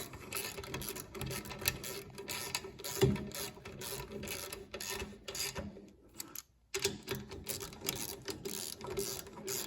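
Bolts being snugged up on a Smart Fortwo 451, quiet ratcheting clicks in quick runs with a short pause partway, close-up and faint, no talking.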